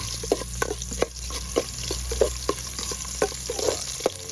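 Shrimp rice soup base frying in a pan of hot oil, a steady close sizzle broken by regular crackling pops and the scrape of stirring, with no voices.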